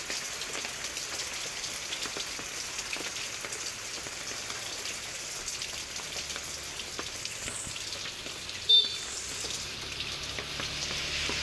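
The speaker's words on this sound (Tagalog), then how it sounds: "lakas ng ulan." Heavy December rain in the Philippines pours steadily onto surfaces, a dense, hissing patter that stays constant throughout, with a brief louder knock or splash near the end and no one speaking.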